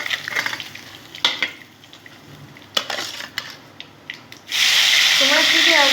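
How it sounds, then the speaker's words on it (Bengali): Boroli fish fries in a pan amid clinking utensils and brief stirring scrapes, then a loud, steady, close sizzle takes over for the final second and a half. "দেখো বন্ধুরা কি সুন্দর করে আমি ভেজে নিলাম।"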